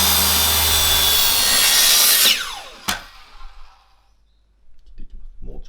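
Japanese hand saw cutting a guide kerf in wood for a dovetail tenon joint, a close steady rasping stroke that runs loud and continuous, then stops with a sharp knock and a few faint scrapes after.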